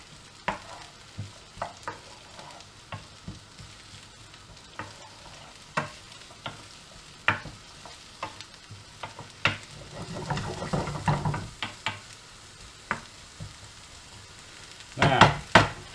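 Minced meat for chilli cooking in a pan, a low sizzle under scattered clinks and taps of a utensil against the pan, quiet and close, with a louder scrape near the end.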